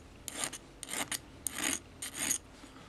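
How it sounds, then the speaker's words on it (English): Carbon stone rubbing against a fishing rod spinning on a lathe, a rasping, scraping sound in five or six short strokes of about half a second each, close and fairly quiet, with no voices. "If you have access to a carbon stone on a lathe, then gently do that."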